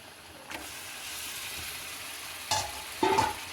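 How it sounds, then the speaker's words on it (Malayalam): A kilo of chicken pieces hits hot oil in a pan for chicken curry, raising a steady close sizzle that flares into two louder hissing bursts near the end; no one talks. "ഇത് ഒരു കിലോ ചിക്കനാണ് നമുക്ക് ഇതിലേക്ക് ഇടാം"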